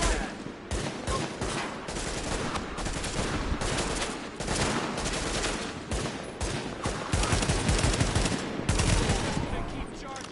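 Sustained gunfire in The Division video game, loud continuous bursts of automatic weapons with overlapping shots and brief pauses, busy throughout with voices mixed in.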